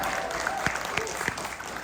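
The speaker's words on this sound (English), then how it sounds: "Round of applause for our zoo team." Continuous crowd applause fills an event at Busch Gardens Tampa for the zoo team, a dense wash of clapping with a few brighter claps and faint voices mixed in.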